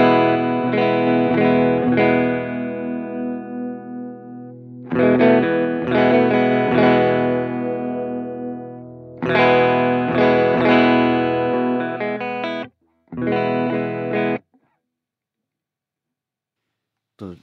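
Electric guitar played through a BOSS BP-1w booster/preamp pedal, sustained chords and notes in several phrases with clean tone and light harmonic saturation, separated by short pauses, ending in silence.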